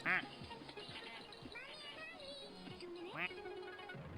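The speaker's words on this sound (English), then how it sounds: "I got tiny ducks" Tiny ducks in a video game quack in a few bright, nasal calls. A loud one opens the clip and another comes later, with a voice faintly present underneath.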